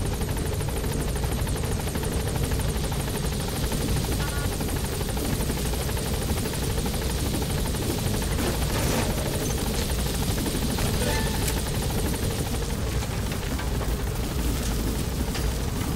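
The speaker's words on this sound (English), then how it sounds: "All right, let's put them in the chopper" A helicopter in the Metal Gear Solid V: The Phantom Pain video game roars loud and close without a break, a dense, continuous rotor and engine wash that fills the whole stretch.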